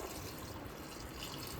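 Hot water is poured into a pot of chicken curry as it cooks in a home kitchen, giving a steady watery rush and splash close by that lasts the whole moment, with no talk over it.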